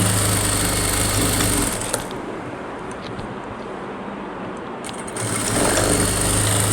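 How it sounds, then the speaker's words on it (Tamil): A sewing machine stitches a blouse side seam, its motor whirring loudly and steadily, easing to a quieter run for a few seconds before speeding back up. "இப்படி தைச்சிட்டு இதில் 1 by 1 3 தையல் போட்டுக்கிறோம்."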